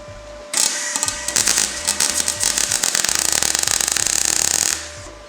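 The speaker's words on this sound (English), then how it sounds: "you've given me like the worst one to weld there" MIG welding crackles and spits in a dense, rapid burst lasting several seconds while filling a centimetre-wide gap in a Datsun 260Z body shell during a restomod, close up and loud, starting and stopping abruptly.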